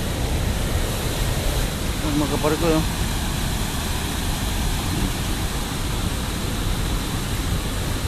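A heavy, continuous roar of water cascading at the WeirDam falls, close and loud throughout, with a short excited shout from a man partway through.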